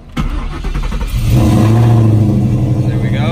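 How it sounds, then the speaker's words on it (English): Ford Coyote V8 fitted with a VMP supercharger cranks and fires up, settling into a loud, steady idle with a whining rumble up close. "let's go ahead and fire it up"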